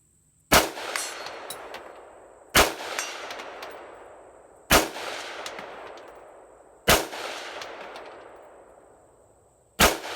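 Five sharp rifle shots from a PSA M4, spaced about two seconds apart, each ringing off a steel spinning plate target with a metallic clang and a fading tail, outdoors with no talking.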